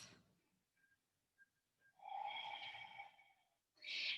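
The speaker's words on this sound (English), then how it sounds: "Keep breathing." Slow audible breathing during a hatha yoga session, a long airy exhale close to the mic followed by the start of another breath, quiet with faint background sounds.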